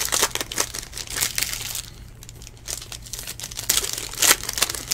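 A basketball trading card pack is torn open with close crinkling and ripping of foil wrapper, bursts of crackle separated by brief quieter handling.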